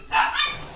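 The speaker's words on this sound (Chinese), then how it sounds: "那小狗叫了。" A small dog gives two quick, sharp yapping barks close by, heard during a League of Legends game session with no talking over them.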